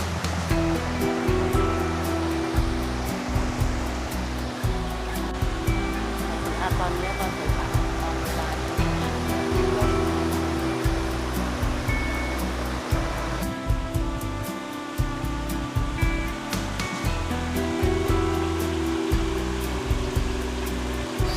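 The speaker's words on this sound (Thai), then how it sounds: "นี้ริมลำธาร" A stream beside a riverside campsite in Nakhon Nayok, Thailand, rushes steadily and loudly without a break, a constant close wash of flowing water.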